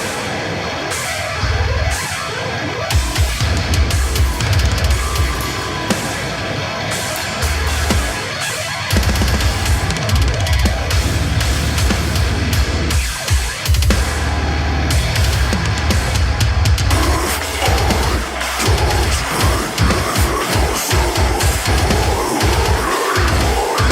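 Loud, dense heavy metal recording with pounding drums, thick distorted guitars and harsh vocals, driving hard throughout.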